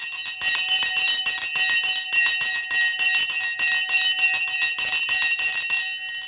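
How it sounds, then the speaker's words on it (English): A stock market opening bell rings loud and continuous for about six seconds, a steady metallic clang with rapid repeated strikes, then cuts off abruptly. "We're about to ring the bell."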